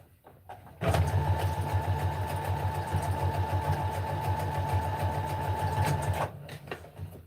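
A sewing machine stitches elastic onto a skirt. After a moment of quiet it runs at a fast, even, close-up whir for about five seconds, then stops.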